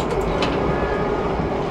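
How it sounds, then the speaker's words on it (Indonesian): A train carriage in suite class rumbles from the inside with an open, unsealed compartment: a dense, steady roar of running wheels and car noise that stays loud and even throughout, with no talking. "Tapi kalau ini dibuka, nah suaranya hampir sama kayak kereta eksekutif pada umumnya."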